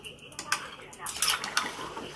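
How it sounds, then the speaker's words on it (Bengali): A spoon scrapes and knocks against a pot of chicken curry with potatoes in quick, irregular strokes, close by, with some light liquid sloshing as hot water is added. "গরম জলটা দিয়ে সুন্দর করে আমি একটু নেড়ে চেড়ে দেবো।"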